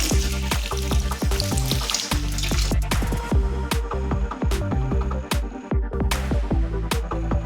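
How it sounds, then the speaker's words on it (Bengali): Fresh coriander leaves washed under a running tap, a continuous rushing splash of water, close and steady, with occasional clinks and knocks and no speech. "এবার ধনে পাতাগুলো ভালো করে ধুয়ে নিচ্ছি"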